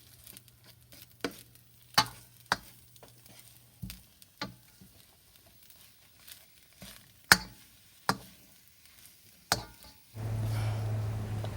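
An egg being stirred into cooked jasmine rice in a skillet for Thai crab fried rice, heard as soft sizzling with a series of sharp scraping and tapping strokes of the utensil, then a brief louder hiss at the end.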